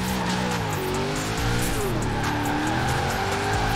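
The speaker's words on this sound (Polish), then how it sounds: "Jeszcze sobie zrobimy driftowanie wokół słupków i robienie ósemki" A Ford Transit van drifts in Forza Horizon 4, its tires squealing in a continuous, wavering screech over steady engine roar, loud and close for the whole stretch.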